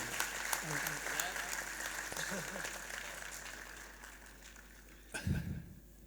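The audience at a mushaira applauds to welcome poet Vijay Tiwari, a soft, steady patter of clapping heard under and after someone speaking, fading toward the end with a brief louder thump.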